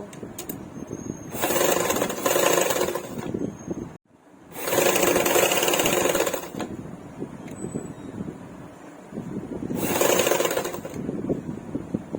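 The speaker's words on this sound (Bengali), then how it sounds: "এইভাবে রেখে ওপর দিক থেকে একটা সেলাই দিয়ে নেব" A sewing machine stitches a double katori blouse in three separate whirring bursts, each lasting a couple of seconds, with quiet pauses between them and no talking.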